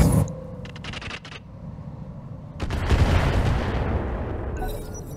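Rapid bursts of mech weapon fire in BattleTech, an autocannon among them, hammer at an enemy mech's head: a couple of short volleys, then a long loud rumbling barrage near and alone, without speech.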